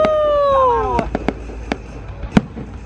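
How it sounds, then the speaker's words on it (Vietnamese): A cluster firework shell bursts at a New Year celebration in Yen Bai, Vietnam: a whistling rise falls away, then several sharp loud cracks and pops ring out at irregular intervals. "Quả nổ to là quả chùm đấy"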